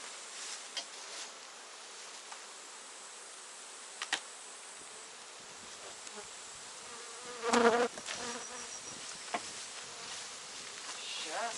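Continuous buzzing of many honeybees up close at an open hive with honey supers, with occasional clicks and a brief louder rustle partway through.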